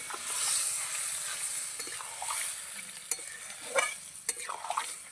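Chalkumra (ash gourd) curry being stirred in a pan, with a steady frying sizzle and hiss underneath and several sharp scrapes and clinks of the spoon against the pan toward the end, close and fairly quiet, no talk.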